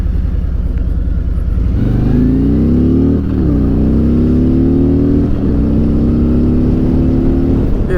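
A motorcycle with a frame-mounted front fairing runs at speed, its engine a loud, close drone that rises through gears with short dips at shifts, set against a constant rush of wind.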